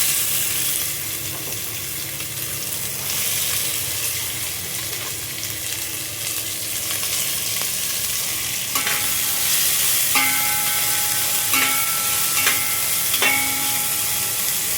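Thinly sliced onions frying in oil with mustard seeds and cumin for an amaranth-leaf curry; a continuous near sizzle with intermittent spoon scrapes and clinks against the pan, no talking.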